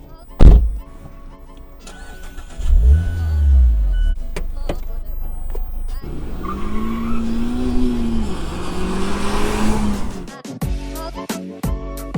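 A 2019 Mazda MX-5 Miata RF starts up: a sharp crank and catch, then a loud idle rumble, followed by a steady revving engine drone as the small roadster pulls away, with a few clicks and thumps near the end.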